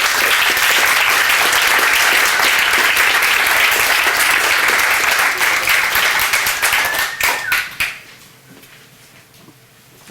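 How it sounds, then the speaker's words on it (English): An audience at a startup pitch event claps in a loud, dense burst that holds for several seconds, then thins into scattered claps and fades to near quiet. "Big round of applause"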